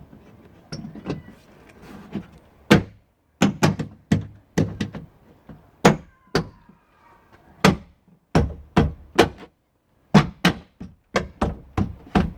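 Repeated sharp thumps and knocks as a rear badge's clips are pressed onto the tailgate of a 2004 Ford Fiesta Mk6: clusters of close, loud hand blows with short pauses between, with no talk.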